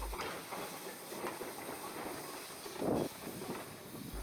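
Snowdon Mountain Railway steam locomotive Moel Siabod shunts into a yard on a steep mountain line, giving a steady broad hiss of steam and rumble with a brief louder puff, moderately distant.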